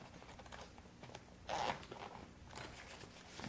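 A short zipper on a 3-inch rifle scabbard pouch pulls open in one brief rasping stroke, close and quiet, surrounded by faint handling noise.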